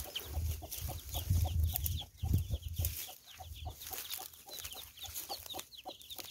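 Hens cluck and murmur continuously in a henhouse, several birds close by with overlapping calls over a low rumbling background.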